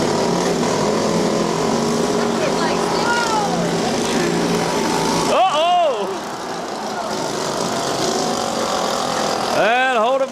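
A demolition derby lawnmower with its muffler gone runs loud and raw in the open air, its engine note rising and falling as the throttle revs, while other engines and crowd noise fill the background.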